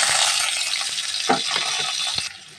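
Diced potatoes go into hot frying oil for a ghatkol dish, setting off a close, dense sizzle with a few light clinks of the pan. The sizzle cuts off abruptly just before the end.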